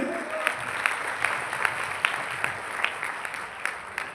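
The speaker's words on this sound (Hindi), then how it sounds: "एक बार तालियां हो जाए" An audience at a Modicare business gathering claps briefly. The applause is sparse and moderately loud, with a few distinct sharper claps standing out.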